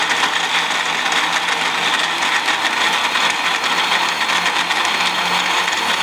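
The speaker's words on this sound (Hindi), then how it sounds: "अब हम इसे करते हैं ग्राइंड।" A blender grinds a fresh peach milkshake with ice, a dense steady whirring roar that holds unbroken and loud from start to finish with no talk.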